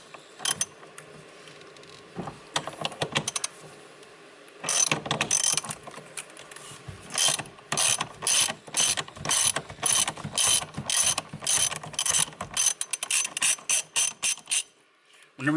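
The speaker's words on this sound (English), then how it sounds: "we just need to get that 24mm bolt on this bolt right here to take that out" Ratchet wrench clicking as it loosens a 24mm bolt holding a steering wheel during a Carbon Cartel wheel install; bursts of rapid ratcheting clicks repeat in quick strokes, close and loud, with brief pauses between.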